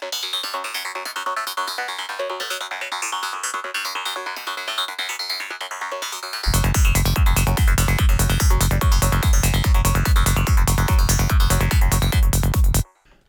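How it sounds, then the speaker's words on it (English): A psytrance one-note sequence lead synth built in Vital within Bitwig plays as bright, buzzy repeating notes, then a heavy driving pulse enters partway through, staying loud and rhythmic until it cuts off near the end. "Today we're gonna do a one-note sequence lead sound using Vital as our"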